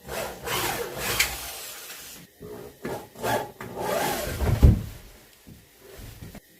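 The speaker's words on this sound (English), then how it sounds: "I'm just unscrewing the screws that are holding the form to the panel" Screws are backed out of a panel to free the form on an old mount being refurbished, giving irregular scraping, creaking turns and wooden rubs in short bursts, with a heavier knock near the middle and brief quiet gaps between.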